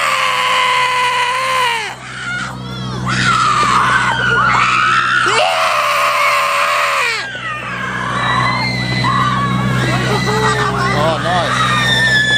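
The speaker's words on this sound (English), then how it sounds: "Time for black metal scream." A person lets out long, loud, strained black metal style vocal screams. The shrieks rise and fall in pitch, with brief breaks between them.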